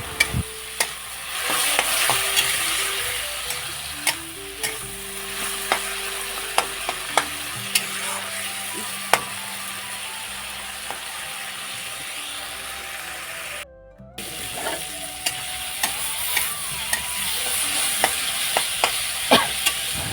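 Ground cumin and coriander paste with spices being stir-fried in a pan for a small-fish curry, with steady sizzling and repeated scraping stirs of a spatula, close and continuous.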